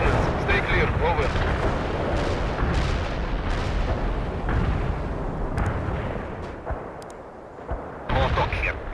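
Artillery strike explosions in World in Conflict, a loud sustained rumble of booms and blasts that fades toward the end, with radio chatter over the top.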